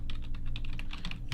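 Rapid keystrokes clatter on a computer keyboard as a title is typed, a steady run of close, crisp clicks over a low background hum, with no voices.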